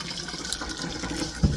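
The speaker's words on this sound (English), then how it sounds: "Just draining my noodles here." Noodles being drained, with a continuous gushing pour of water, likely into a sink, running steadily for the whole stretch with a soft thump near the end.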